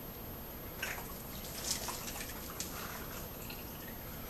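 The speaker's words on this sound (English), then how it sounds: "I'm just going to pour some of that hot water down the bore." Hot water is poured down a rifle bore to flush out Cosmoline, giving a faint, quiet trickling with a few small drips and splashes over a soft background hiss.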